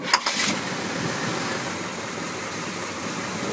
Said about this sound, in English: You're going to hear the engine start and running.